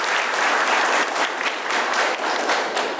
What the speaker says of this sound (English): Muwapigie makofi tafadhali.